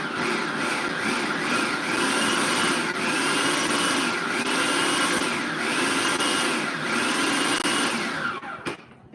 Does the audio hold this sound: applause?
no